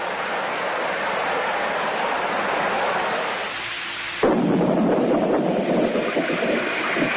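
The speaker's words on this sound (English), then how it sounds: "Thunder and a sudden shower. 2 familiar sounds of spring." Sound-effect rumble of thunder and wind-like noise, cut sharply into a sudden rain shower that hisses loud and steady for the last few seconds, part of a 1961 radio commercial.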